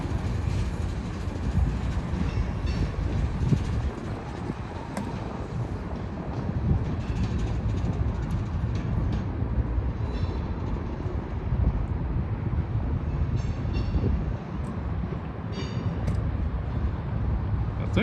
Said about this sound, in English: Got 2 trains passing